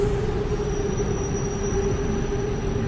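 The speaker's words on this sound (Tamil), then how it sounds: "அப்படியே ட்ரெயின் போயிட்டுருக்கு," A Bangkok metro train runs past at night with a loud, steady rumble and a thin, high metallic wheel squeal held throughout.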